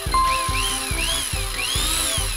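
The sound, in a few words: electric drill running in animated cartoon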